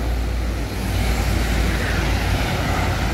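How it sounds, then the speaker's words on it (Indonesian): A Putra Pelangi bus passes on the road amid traffic, making a loud, steady roar of engine and tyre noise that stays constant throughout. "Nah, ini ada bus Putra Pelangi."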